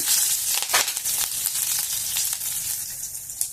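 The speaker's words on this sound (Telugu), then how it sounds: "క్యారెట్, బీన్స్, సోజన్, బఠానీ అన్నీ వేసి కొద్దిసేపు వేగనిద్దాము" Carrots, beans, soya chunks and peas fry in a pan with cumin, curry leaves and green chilli for veg egg fried rice, giving a bright, continuous sizzle with brief bursts as the pieces are stirred.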